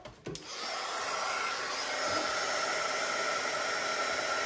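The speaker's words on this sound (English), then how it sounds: "Now grab your heat tool" An embossing heat tool blows a steady, loud hot-air whoosh, starting with a brief click and rising within half a second, then holding constant for several seconds with no talk.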